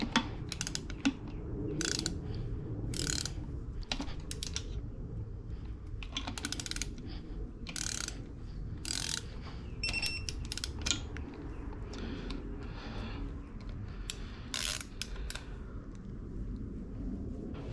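A hand ratchet clicks steadily while turning a socket on a Buick 3800 engine during reassembly, close and fairly quiet, with repeated short bursts of pawl clicks and brief pauses between strokes.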